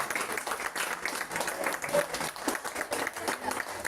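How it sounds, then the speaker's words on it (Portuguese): A church congregation in Goiânia applauds in praise, a steady, dense wash of many hands clapping together throughout, fairly loud and close, with faint voices mixed in. "Vamos dar uma salva de palmas para o Senhor."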